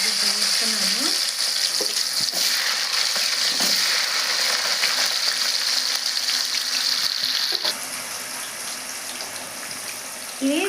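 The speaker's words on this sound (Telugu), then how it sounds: "ఆయిల్లో వీటిని ఫ్రై చేయాలండి." Cut potato pieces frying in heated oil, a loud, dense, continuous sizzle with faint stirring scrapes, easing slightly in volume toward the end, with no speech.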